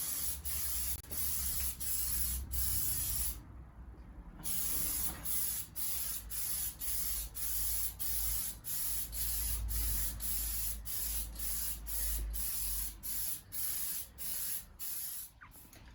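An aerosol can sprays red oxide primer onto wood in a workshop, steady close hissing bursts repeated in a regular rhythm with brief pauses between passes.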